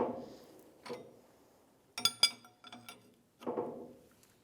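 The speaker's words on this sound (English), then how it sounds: "I have a bushing puller in the end of the leaf spring, and I'm pulling that old bushing out" A bushing puller works an old bushing out of a leaf spring on a 1992-1996 Ford F-150, giving quiet, sparse metallic clicks and a few sharp clinks separated by near silence.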